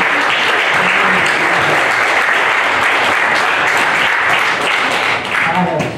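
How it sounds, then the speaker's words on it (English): Loud, sustained applause from a church congregation, dense and continuous for several seconds before easing slightly near the end. "let's give a praise clap to God"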